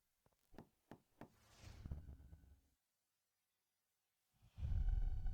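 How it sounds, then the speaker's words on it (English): Several sharp knocks on a door sound close and distinct, followed by a rising rumble, a pause of silence, and then a loud burst of noise at the end. "I'll knock on the door."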